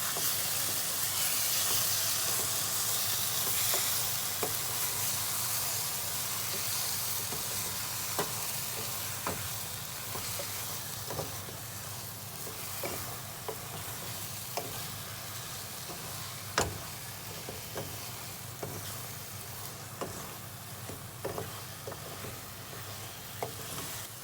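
Mutton pieces frying and being stirred in a tomato masala mixture, a constant sizzling hiss with scattered light clicks and scrapes from stirring, steady and close throughout.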